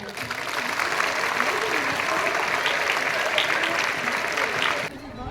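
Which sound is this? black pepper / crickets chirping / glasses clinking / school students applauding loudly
school students applauding loudly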